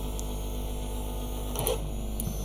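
An Easythreed X1 3D printer homing gives off a steady, fairly quiet motor whine with a few faint clicks and a short burst of mechanical movement partway through.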